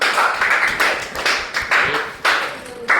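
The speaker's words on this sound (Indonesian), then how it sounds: "tepuk tangan kepada kelompok 1" A classroom group applauds in short bursts of hand clapping, several rounds rising and dropping off in a loud, close, choppy rhythm with no talking.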